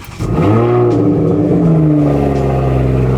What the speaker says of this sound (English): So we're going to fire up the car.